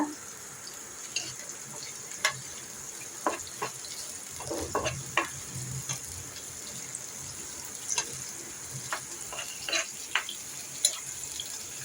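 Dried red chillies, bay leaf and chopped garlic frying in hot oil, a quiet continuous sizzle dotted with small crackles and a few spoon scrapes in a home kitchen.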